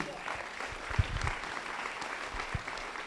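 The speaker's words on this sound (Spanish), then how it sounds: "Denle un aplauso a Jesús" A congregation at a church service applauds for Jesus, a full, sustained round of clapping with a few low thumps and faint voices mixed underneath.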